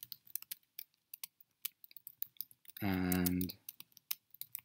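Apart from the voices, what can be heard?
typing on a computer keyboard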